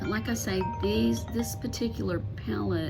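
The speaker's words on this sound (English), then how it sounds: "Sorry about my phone ringing there." A mobile phone rings with a repeating chiming tone that runs steadily underneath someone talking close by.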